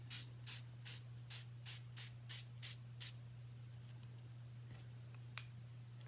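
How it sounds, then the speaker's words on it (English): A spray bottle spritzing in a series of about nine quick, even hisses during the first three seconds, followed by quieter faint sounds over a constant low electrical hum, with no speech. "let's see if we can spritz just a little bit more"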